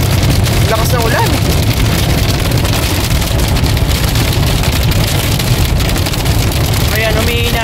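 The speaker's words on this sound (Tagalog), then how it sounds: "Lakas ng ulan." Heavy rain pours down on a road in Canada, a loud, steady, dense roar of drumming water that fills the whole stretch, with a low rumble underneath.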